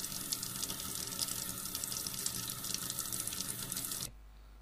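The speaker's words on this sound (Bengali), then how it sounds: "কারণ বাথরুম থেকে কলে জল পড়ার শব্দ পরিষ্কারভাবে আমার কানের মধ্যে এসে লাগলো।" Water runs from a bathroom tap in a steady, close, hissing stream with faint splashes, then cuts off abruptly near the end, leaving quiet; no one speaks.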